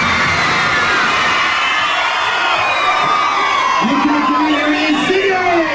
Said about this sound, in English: them girls can be quite frightening when there's about 500 screaming at you